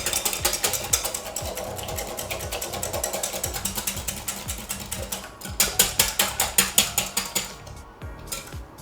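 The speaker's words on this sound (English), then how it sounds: "So whisk up your eggs." Eggs for a pecan pie are whisked briskly in a bowl, giving a rapid, steady run of close clicking and scraping strokes that speed up and grow louder toward the end, with no talking.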